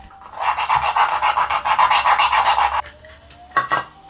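A drill grinds steadily through a thick plastic canopy bubble for a BoltRC Kraken FPV drone, giving a close, loud, rasping whir for about two and a half seconds before it stops, followed by a few brief handling knocks.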